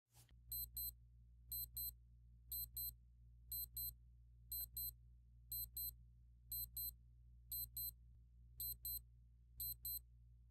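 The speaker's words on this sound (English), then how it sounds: "alarm sounds like when it goes off." An Amazon Essentials digital chronograph watch (AE/1004) alarm beeps in quick paired bursts, repeating steadily about once a second, thin and high-pitched over a low background hum.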